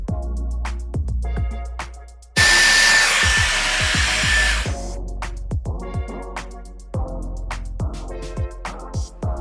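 A handheld hair dryer blows hair dry in a steady, loud whoosh lasting about two seconds. Short, crisp clicks and snips come before and after it.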